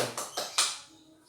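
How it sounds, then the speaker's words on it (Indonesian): Students in a junior high classroom give a short, light round of applause, three or four soft claps close by that quickly fade out. "Beri aplaus."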